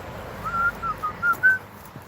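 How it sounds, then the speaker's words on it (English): A person whistles a short, soft tune of four or five sustained notes rising in pitch, faint against a noisy outdoor background with no talking. "Whistle while we work."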